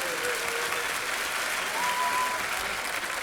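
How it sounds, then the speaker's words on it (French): Audience applause for the winning team at an award ceremony for the Jules Bianchi marathon: steady, dense clapping from a crowd throughout, with a faint voice or tone passing briefly over it. "j'attends vos applaudissements pour l'équipe LC8 évidemment, victorieuse de ce 9e marathon, Jules Bianchi."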